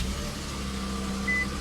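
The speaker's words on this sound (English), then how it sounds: "And what you're hearing there is a 3-liter twin turbo V6" The 3.0-liter twin turbo V6 of a 2017 Infiniti Q60 3.0T Premium runs just after a push-button start, a steady low engine hum close by with a faint high whine.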